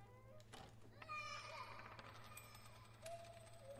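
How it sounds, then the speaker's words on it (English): A voice echoes in the Silent Hill: Downpour video game, faint chattering over a low ambient hum with scattered clanks and knocks. "Okay, I hear a child in here."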